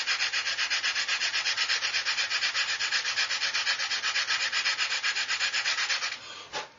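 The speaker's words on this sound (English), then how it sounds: "Coarse file to start with, and then we just blend it in" Rapid, rhythmic rasping of a coarse file scraping back and forth over a 1/32-scale plastic model aircraft, steady for about six seconds, then a brief scrape and stop.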